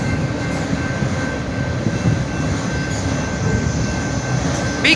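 Train passing on the railroad at a Maumee Street crossing, a loud, steady rumble of rolling wheels with a thin sustained tone, continuous and close for the whole stretch.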